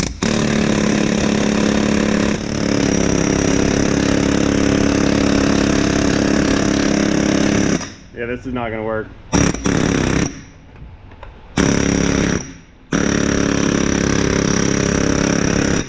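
A pneumatic impact wrench works on a blown-up Ford 3.0 V6 diesel engine, hammering continuously in a loud, harsh buzz for several seconds, then stuttering in short bursts while someone speaks briefly.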